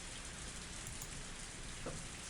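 Heavy rain pours in a steady, dense hiss that fills the whole stretch, with no voices and only faint scattered drops standing out.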